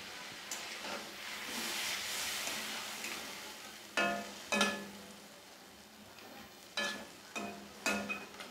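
Fesa fish and bori sit in a simmering curry that gives off a soft, steady bubbling hiss, with several louder clattering stirs or spoon knocks in the pan.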